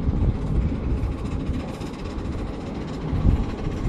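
Two K4 steam locomotives double-head a train, working hard with a dense, loud roar of exhaust and rolling rail noise that surges slightly in rhythmic pulses, with no voices over it.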